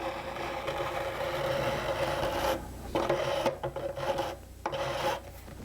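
Metal file dressing sharp fret ends on a guitar neck, close rasping strokes in a quick back-and-forth rhythm, with brief pauses between bursts.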